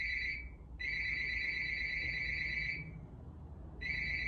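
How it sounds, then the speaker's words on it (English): An electronic phone ring trills in two long bursts separated by a short gap, with a third starting at the end, fairly faint and alone. "sorry for the phone, it's ringing"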